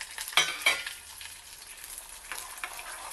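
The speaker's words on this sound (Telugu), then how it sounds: "ఇప్పుడు ఈ పప్పులు కూడా కొంచెం వేగాయి, చిట్టుపట్లాడుతున్నాయి" Peanuts and lentils fry in hot oil for a tempering, giving a steady sizzle with a couple of sharp stirring scrapes near the start and occasional crackles.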